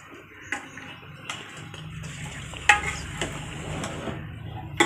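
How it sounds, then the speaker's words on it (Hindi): Beef karahi being stirred in ghee in a pot: a soft low sizzle under scraping strokes and several sharp metal spoon clinks against the pot's side. "थोड़ा सा इसको मिक्स कर लेंगे।"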